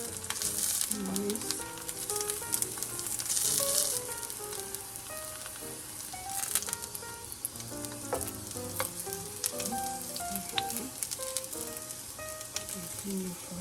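Steady, close sizzling of eggplant frying in a hot pan, with scraping and stirring clinks throughout.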